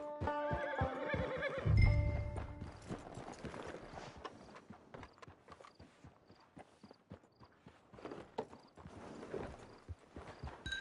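In the Red Dead Redemption 2 video game, a horse gives a loud whinny near the start, and then its hooves clip-clop in a steady walking rhythm throughout.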